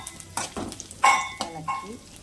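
Onions and curry leaves fry in a pan for a mango and sardine curry, stirred with a few distinct scraping knocks over a soft sizzle, close and fairly loud.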